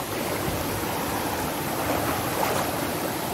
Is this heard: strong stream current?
yes